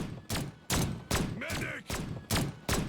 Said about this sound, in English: That's how fast your bullets shoot.